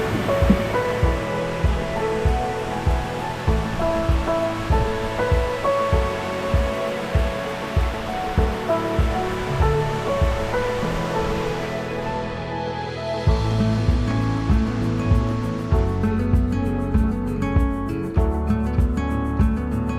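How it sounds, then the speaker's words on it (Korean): Yongchu Waterfall pours down in a constant roaring wash of water, heard under a strong, regular musical beat that dominates the foreground. "시원하게 떨어지는 용추폭포를 구경하고 폭포 위로 지나가는 다리를 건넜습니다"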